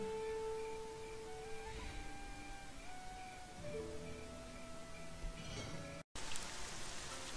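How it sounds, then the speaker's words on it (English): Rain falling in the video game Black Desert, a steady patter of raindrops on surfaces under soft tonal game music, with a short dropout near the end. "It's currently raining in Blackdessert."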